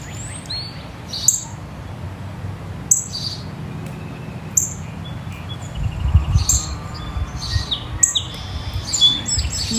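Birds sing outdoors in short, bright, repeated chirps and tweets at moderate distance, over a low, soft background rumble.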